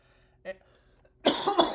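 A short throat sound is followed by a harsh, close cough in two bursts, alone in a quiet room.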